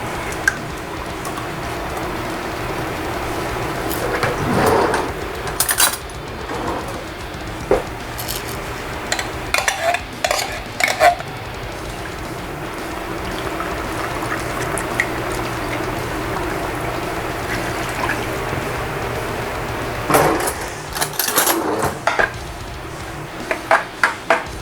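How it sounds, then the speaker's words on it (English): Rice being mixed in a container during meal prep, with scattered scraping and clattering bursts of a utensil against the dish over a low background, no talk. "Now I'm just gonna mix it. Try to get all those little balls of rice."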